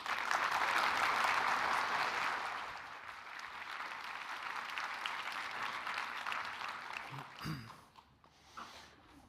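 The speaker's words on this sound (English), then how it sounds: "please give a big round of applause for Norad's own director" A conference audience applauds, a dense round of clapping that is strong at first and slowly thins out over several seconds, followed by scattered footsteps and shuffling.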